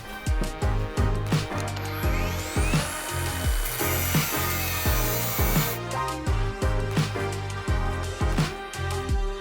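Dnipro-M DGA-201BC Ultra cordless miter saw cutting through a profile in an endurance test, loud rhythmic series of short cuts with sharp blade bites and a spinning whine in the middle, close and without speech.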